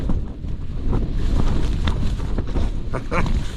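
Strong 45 mph winter wind gusts roar and buffet the microphone continuously at a wild camp in an abandoned quarry, with tent fabric flapping and rustling, rising and falling throughout.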